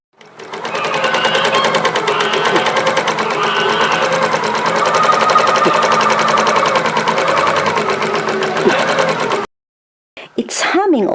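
A vintage Kawasaki edging sewing machine motor hums steadily and loudly with a fast, even mechanical rattle for about nine seconds, then cuts out abruptly before a brief squeal.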